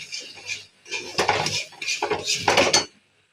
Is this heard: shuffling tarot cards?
no